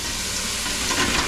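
A large pile of onions fries in a pan after wild pork has been browned and removed, giving a loud, close, continuous sizzle and hiss that runs without pause and with no speech.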